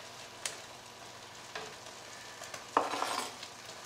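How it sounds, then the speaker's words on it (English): Fresh tomatoes go into a sizzling pan of shrimp sauce for fettuccine rigate and get stirred, with a soft, steady sizzle, a few light scraping strokes, and a louder hissing burst near the end. "First, we're gonna be adding fresh tomatoes."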